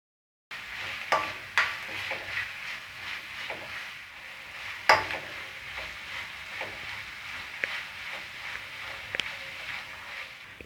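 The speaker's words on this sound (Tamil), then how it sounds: "ஒரு 5 நிமிஷத்துக்கு காய்கறிகளை நம்ம நல்லா வதக்கி விட்டுப்போம்" Vegetables for egg fried rice sauté in a pan over a soft background sizzle, with several sharp clinks and scrapes from a spoon stirring against the metal at irregular intervals.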